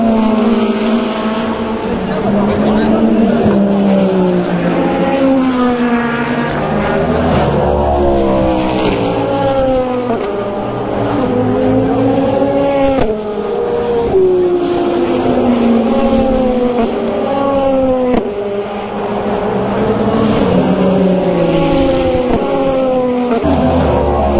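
Toyota race cars at the 24 Hours of Le Mans during free practice, engines screaming loudly as they pass one after another close to an elevated trackside spot, with rising and falling pitch and a voice speaking briefly.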